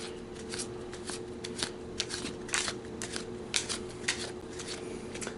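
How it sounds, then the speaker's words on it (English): A deck of playing cards is shuffled by hand at a tabletop game, giving repeated crisp riffling bursts that come in quick irregular bunches, close and clear with no talk. "Shuffle the rest of the cards, and then you hand out to each player 4 cards."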